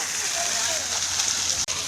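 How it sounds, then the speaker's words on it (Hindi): Steady flowing water near a Shiv temple, a continuous broadband rush with faint voices and birdlike chirps beneath, one brief dropout near the end. "पानी की आवाज़ देखा एकदम ओरिजिनल जैसा लग रहा है ना"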